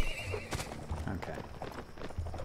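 Horse hooves clip-clop in a steady gallop rhythm, with snorts and a whinny, amid battle noise in the medieval combat game Mount and Blade, close and continuous with no talking.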